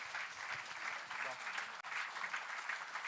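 Audience applause at an award ceremony in Sardinia, steady dense clapping from a crowd filling the whole stretch, with a brief dip in the middle before it resumes just as strongly.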